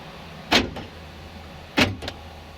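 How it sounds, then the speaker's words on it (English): Two short mechanical clunks about a second apart, the sharp thunk of car door locks actuating as an Xtool A30 Pro scan tool commands them to lock and unlock, each with a faint rattle after, in a quiet interior. "See, it locks and unlocks the doors."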